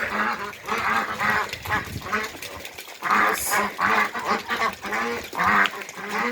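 A crowd of ducks quacks loudly and continuously at close range, overlapping calls forming a busy, honking chorus.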